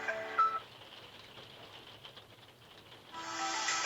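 A Kospet Magic smartwatch's Find Phone command sets off a steady electronic alert tone on a phone, ringing at the start, pausing briefly, then resuming loudly and continuously near the end.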